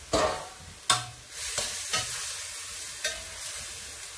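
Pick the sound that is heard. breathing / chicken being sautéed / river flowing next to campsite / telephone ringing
chicken being sautéed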